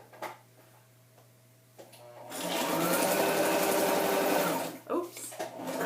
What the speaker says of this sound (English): if you have an unreliable sewing machine, like I guess I do, then I had a Brother sewing machine before